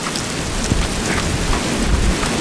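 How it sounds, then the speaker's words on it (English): Steady rain beats on the roof of a van during a storm, a dense, continuous patter up close with a few heavier thumps and no voices. "Ooh, that rain's cold."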